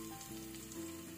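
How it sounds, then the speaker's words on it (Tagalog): Cooking oil sizzles steadily in a pan as onions sauté for a Filipino corned beef with potato and peas, a continuous close, moderately loud frying hiss with a faint low hum beneath. "Sote lang natin yung mantika."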